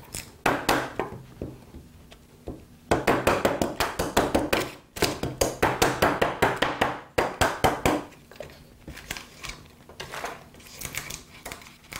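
A chisel is struck repeatedly to pare out wood, giving quick, sharp taps in steady runs of blows with short pauses between each series.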